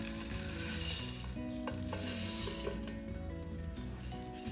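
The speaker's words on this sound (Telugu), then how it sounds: "కొద్దిగా రెడ్ కలర్, బ్రౌన్ కలర్లోకి వచ్చే వరకు వేయించుకొని" Murukulu snack frying in hot oil, a soft continuous sizzle with light crackles and faint clinks at moderate distance, no speech.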